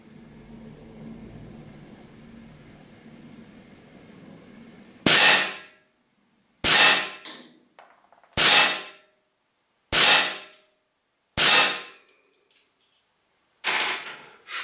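Steyr LP50RF air pistol firing six sharp, close shots at irregular intervals of roughly a second and a half, each a crisp snap that decays quickly, following a faint hum of quiet background.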